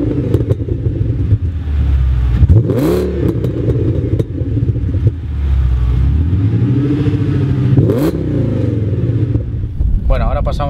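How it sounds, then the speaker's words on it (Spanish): An Audi S8 5.2 V10 engine rumbles at idle through its exhaust, then revs sharply twice, each blip rising to a loud roar before falling back. "es un escándalo de tubo de escape"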